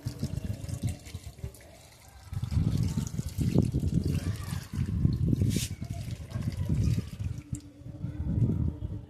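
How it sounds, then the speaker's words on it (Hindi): Water is poured into a terrace-garden pot holding a newly planted mango sapling, with bursts of splashing and trickling separated by short pauses, close up, and someone speaks over it. "अब इसमें हम देखिए पानी डाल रहे हैं।"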